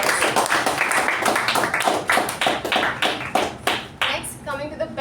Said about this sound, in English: Let's give him a huge round of applause.